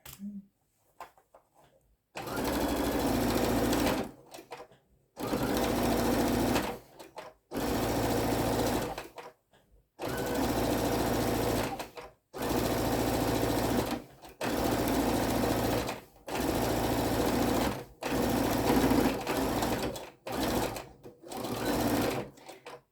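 A sewing machine stitching a welding cap runs in about nine steady bursts of rapid whirring, each a couple of seconds long with short pauses between, close and loud.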